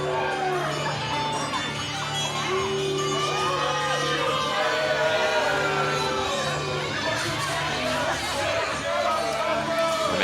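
An arena crowd at a wrestling show chatters, whoops and shouts steadily in a loud, continuous roar, with a commentator talking over it.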